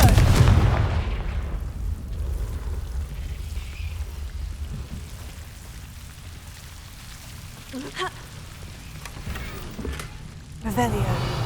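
A Confringo blasting spell goes off in Hogwarts Legacy with a heavy boom at the start that fades into rumbling debris. Smaller sharp impacts crackle later, and a game voice can be heard.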